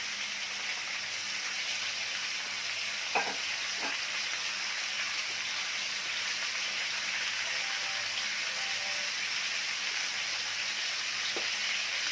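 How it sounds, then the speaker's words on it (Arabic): Meat searing in a hot pan for a meat and onion tray bake gives a loud, steady hiss and crackle, with a couple of faint clicks and no voices. "هنديها تشويحه كده محترمه"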